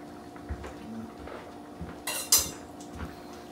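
A spoon scraping and clinking against a cooking pot during the making of Hungarian classics, several soft taps, then a sharp metallic clatter and scrape near the middle, close and clear with no talking.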